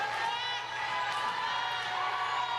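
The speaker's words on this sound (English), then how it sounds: "You can hear the crowd cheering for MCC." Crowd cheering at a college volleyball match between McLennan Community College and Collin College in a gym, a steady dense roar of voices and whistles that fills the whole moment, with an announcer talking over it.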